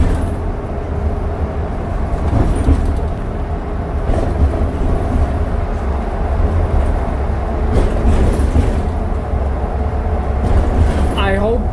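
Inside a 2019 Nova Bus CNG transit bus on the move, a steady low engine and road rumble with rattles and knocks over the ride, and faint voices now and then in the background.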